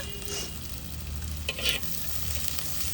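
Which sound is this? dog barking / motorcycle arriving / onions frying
onions frying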